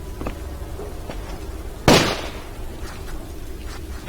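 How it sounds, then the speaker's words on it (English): Gunfire from police outside in Call of Cthulhu: Dark Corners of the Earth, heard from indoors as one loud sharp shot midway, with faint distant pops scattered around it. "Des flics dehors qui continuent à tirer alors que tout le monde est mort."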